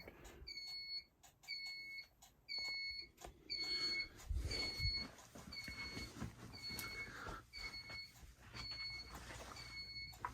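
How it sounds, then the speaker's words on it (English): A carbon monoxide alarm on a fire alarm panel system chirps in short repeated high-pitched beeps, steady and insistent, with some rumbling background noise underneath. "There's the CO detector, or there's the CO alarm."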